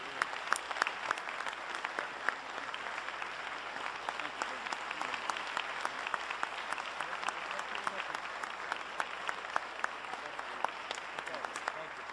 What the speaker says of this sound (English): very robust round of applause.